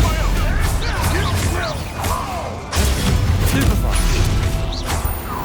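The Bombarda explosion spell goes off during combat in Hogwarts Legacy, a loud, dense wash of booming rumble and crashing debris that runs throughout, with a sharper blast surging in near the middle.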